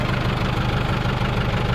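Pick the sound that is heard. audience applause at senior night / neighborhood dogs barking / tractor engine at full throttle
tractor engine at full throttle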